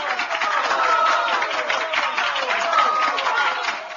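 Applause from a group gathered around a Black Sea–style dinner table: dense, steady clapping that holds at an even level for about four seconds, sounding moderately close and continuous, with no clear voices on top.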